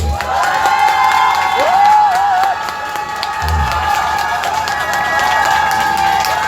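A crowd at an outdoor rally supporting a statue of Park Chung-hee claps and cheers, a loud sustained roar of applause with shouts and whistling voices rising over it.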